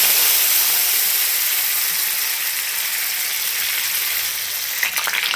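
Tempering of crushed garlic and chopped coriander fries in hot oil, giving a continuous bright crackling sizzle that stays loud and steady, with a few faint clicks near the end.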